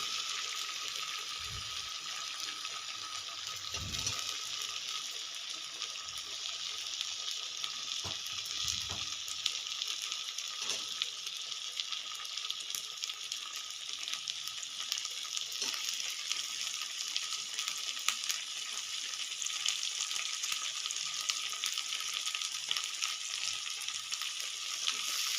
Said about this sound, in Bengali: পেঁয়াজ কুচনিগুলো দিয়ে দেবো।